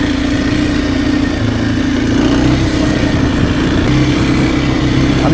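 A Kawasaki KLX230R dirt bike engine runs steadily while a beginner rides over dirt and sandy ground, a continuous close drone with a low mid-pitched hum and slight rises and falls in revs throughout, no talking.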